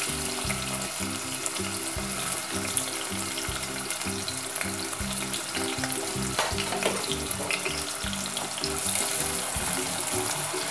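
Half a cup of onion fries in hot oil for chola bhuna, a dense continuous sizzle with rhythmic crackling pulses and occasional stirring, close and steady throughout.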